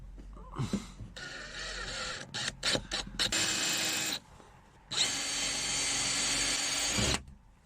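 A power drill drilling in a van whines in bursts, stopping and starting several times, then runs in one long steady stretch before cutting off, loud and close.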